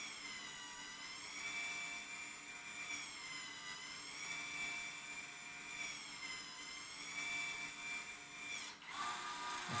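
A Celestron motor focuser on a RASA11 V2 telescope drives with a thin, steady whine that wavers slightly in pitch, faint and close, then cuts off abruptly near the end.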